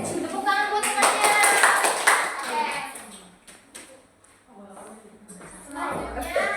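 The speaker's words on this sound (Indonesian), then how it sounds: "Tepuk tangan buat temannya" Classroom of students clapping for a classmate, a burst of many hands that thins and fades, with children's voices mixed in.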